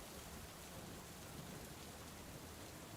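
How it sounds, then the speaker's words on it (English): A thunderstorm with rain gives a steady, faint wash of rainfall, even and continuous with no distinct thunderclap, heard alone without voices. "A thunderstorm had just started,"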